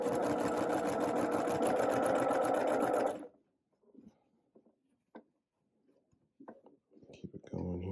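A sewing machine stitches a quarter-inch quilt seam in a steady, fast, close whirring clatter for about three seconds, then stops, followed by quiet fabric handling and a brief voice.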